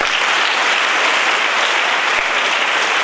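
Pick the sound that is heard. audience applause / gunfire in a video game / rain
audience applause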